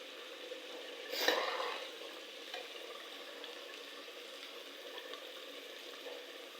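Meat fries slowly in a pan with a soft, quiet sizzle, one brief louder crackle or scrape early on, then a low steady hiss.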